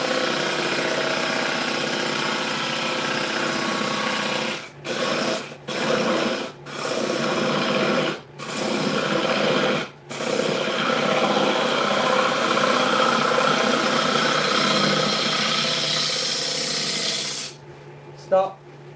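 A wood lathe hums steadily while a tool hollows out a fruit bowl, the continuous cutting noise broken by several short pauses and then stopping near the end, close and fairly loud.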